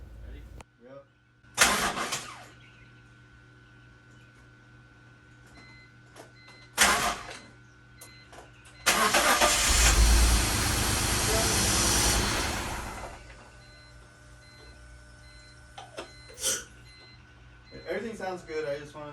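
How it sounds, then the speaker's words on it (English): BMW E46 cranking and starting after an oil and filter change following a long period of sitting, heard as a few short bursts and then a longer, louder run before dying away, with people talking nearby. "hopefully get this first clean startup of the E46"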